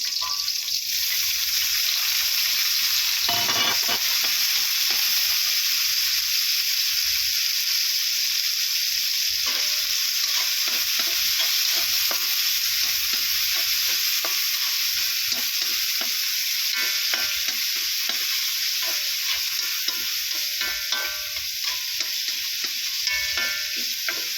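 Onions and tomatoes sauté in a pan with a loud, steady sizzle, while frequent scrapes and knocks of stirring break through it; no one speaks.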